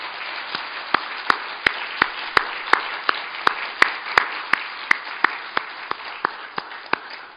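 A church congregation applauds in praise after a choir's hymn, a steady wash of clapping punctuated by a regular, loud rhythmic beat of sharp claps running throughout.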